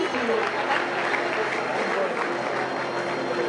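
Steady applause fills an award ceremony where students are named for top results in school subjects. The clapping is dense and continuous throughout, with crowd noise mixed in.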